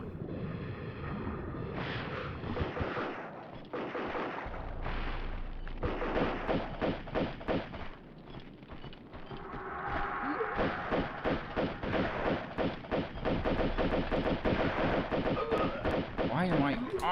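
Pistol gunfire in the PS1 game Tomb Raider 2 (1997): a dense run of rapid, sharp shots in quick bursts over a busy game soundtrack, with a voice talking over parts of it.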